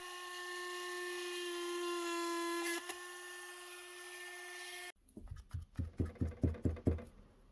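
A small drill runs with a steady high whine, then stops and gives way to a series of rhythmic scraping, grinding bursts as a small hole is drilled into the top of a Brother ink cartridge, close and fairly quiet.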